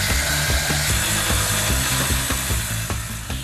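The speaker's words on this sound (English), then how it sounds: "getting stuck into a marathon of cutting and welding" Power tools cutting metal in a workshop, with steady loud grinding and repeated rhythmic strikes over a dense mechanical roar, no voices.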